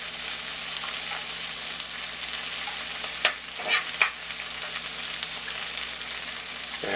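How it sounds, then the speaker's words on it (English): Onions sizzle steadily in a hot pan on the stove, a constant close frying hiss with a few brief stirring clatters midway and no talking. "as the onions start to cook"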